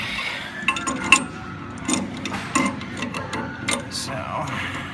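A 1-inch pipe being unscrewed by hand from a check valve head assembly, with scattered close metallic clinks and ticks at an irregular rhythm, and a voice speaking in the background.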